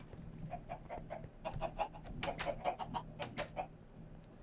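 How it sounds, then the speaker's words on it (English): Chickens in the video game Minecraft cluck repeatedly in short, quick, clipped bursts, several overlapping, fairly faint over a low steady background hum. "So many chickens."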